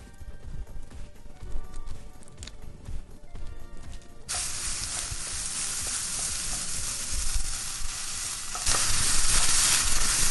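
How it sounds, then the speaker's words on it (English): Sausage dropped into shimmering hot oil in a skillet sets off a sudden loud, steady sizzle that keeps going and grows a little stronger, with no talking over it. "So we're going to put our sausage in there."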